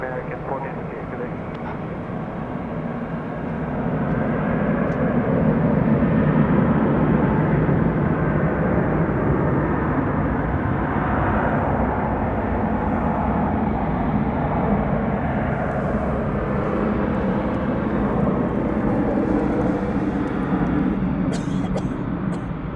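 A jet airliner roars down runway 18 left at DFW airport at night, a broad steady engine rumble swelling after a few seconds and holding loud throughout, with faint radio voices in the background.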